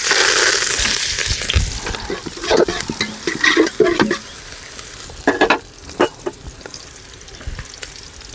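Onions, green chillies and curry leaves frying in about a hundred grams of oil for jeera rice, with bursts of sizzling and stirring clatter that come and go, louder in the first half and quieter toward the end.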